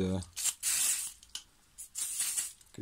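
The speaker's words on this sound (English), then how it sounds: "Get this sprayed up with some WD-40 or something similar." WD-40 is sprayed from an aerosol can onto a string trimmer head in three sharp hissing bursts, each lasting about half a second, close to the microphone.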